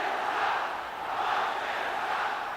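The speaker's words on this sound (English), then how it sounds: "And I don't remember when this crowd was aroused as much" Basketball arena crowd at an NBA Finals game between the Celtics and Lakers roaring steadily, a dense, continuous wall of cheering and shouting that swells slightly and stays loud throughout.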